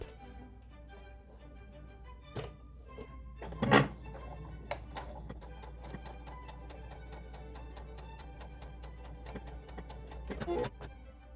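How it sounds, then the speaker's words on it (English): A sewing machine stitching together the front and back panels of a small doll blouse, heard as a quiet run of rapid, evenly spaced ticks with a few louder thumps, soft and close. "First I'm going to sew front and back panel."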